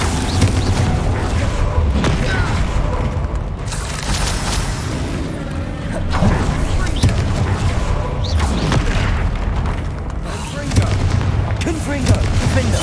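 Spell explosions from Confringo and Bombarda in the Hogwarts Legacy video game, with repeated heavy booms and blasts over a dense, continuous roar of combat noise that stays loud throughout.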